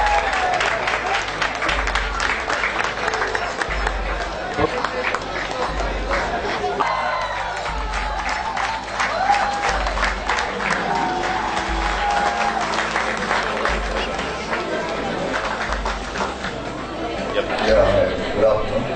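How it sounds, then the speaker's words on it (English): A film promotion event audience claps to welcome the director: loud, sustained applause mixed with crowd chatter and a few cheers, with voices talking over it. "Big clap for Prawal ji."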